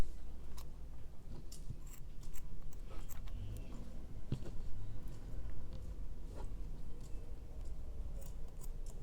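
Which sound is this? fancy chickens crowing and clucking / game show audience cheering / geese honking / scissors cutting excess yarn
scissors cutting excess yarn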